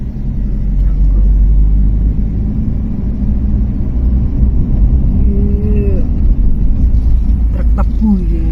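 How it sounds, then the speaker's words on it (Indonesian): A sugarcane truck rumbles past at night, a loud, steady low engine drone holding throughout, with a brief higher whine and faint chirps near the end. "Truk tebu ini."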